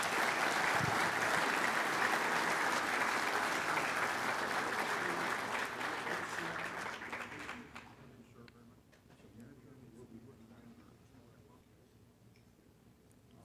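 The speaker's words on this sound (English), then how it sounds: "Could we have a round of applause for all the suppliers?" Round of applause from guests at an awards luncheon, loud and sustained for about seven seconds before tapering off into quiet room murmur and faint clinks.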